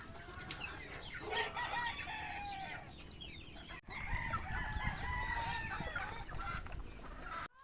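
Chickens and young cockerels clucking and crowing together at a game farm during feeding time, a busy, continuous chorus of calls close to the listener with steady background rustle.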